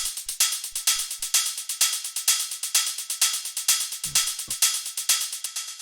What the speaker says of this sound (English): the last thing we have here are the hi-hats, which sound like this.